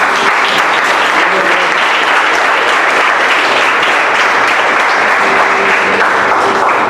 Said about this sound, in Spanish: Denle palmas más fuertes